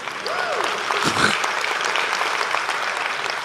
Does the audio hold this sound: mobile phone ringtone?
no